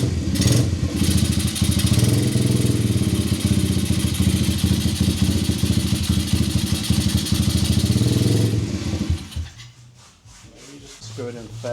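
A small engine with its choke on runs loud and close with a rough, buzzing drone for several seconds, then falters and dies away into a quieter, uneven tail.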